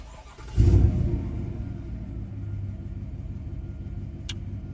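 A Chevy Silverado pickup's engine cranks and catches with a loud starting burst, then settles into a steady low idle rumble heard from inside the cab, with a brief faint chime near the end.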